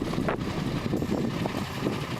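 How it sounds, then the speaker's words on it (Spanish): Patagonian wind blowing steadily in the open, a continuous broadband rush with low rumble throughout, no clear gusts standing out and no talking. "Se escucha el sonido del viento patagónico."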